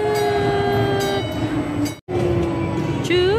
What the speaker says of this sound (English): we're gonna ride that Galaxy Express